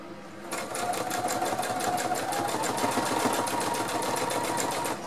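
A sewing machine stitches a straight seam on a baby sheet, a rapid even mechanical whirr that starts after a short pause and runs steadily and close to the end.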